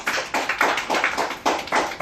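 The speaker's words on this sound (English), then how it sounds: "Round applause" A small seminar audience in Singapore claps in a brief burst, several uneven rhythmic clap clusters rising and falling over about two seconds, close and moderately loud.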